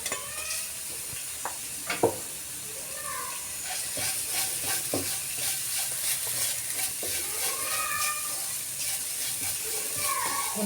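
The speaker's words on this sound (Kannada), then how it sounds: "ಇದು ರುಬ್ಬಿದ್ದಂಥ ಮಸಾಲೆ, ಕಾಯಿ, ಹಸಿಮೆಣಸಿನ್ಕಾಯಿ, ಕೊತ್ತಂಬರಿ ಸೊಪ್ಪು, ಸ್ವಲ್ಪ ಶುಂಠಿ ಇಷ್ಟು ಹಾಕ್ಕೊಂಡು ಈಗ ಫ್ರೈ ಮಾಡ್ಕೊಳ್ಳೋಣ" Ground masala of coconut, green chili, coriander leaves and ginger frying in a pan while being stirred, a continuous steamy sizzle with spoon scrapes and knocks, close, with faint background voices.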